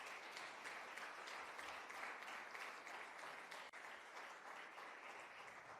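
A church congregation applauding, a sustained, even wash of many hands clapping for several seconds, fairly distant and unbroken, with no speech on top.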